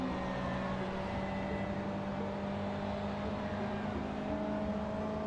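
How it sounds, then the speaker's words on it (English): Simulated car engine from Forza Motorsport 2 droning steadily throughout, a constant whirring tone with sustained harmonics at a fairly low level, with no speech. "Might turn down the engine sound a little bit more."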